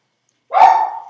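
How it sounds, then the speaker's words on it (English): A single sharp bark from a dog in Happy Wheels, loud and close, abruptly starting after a moment of silence and fading out quickly. "Barking dog everywhere."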